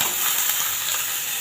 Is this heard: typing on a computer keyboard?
no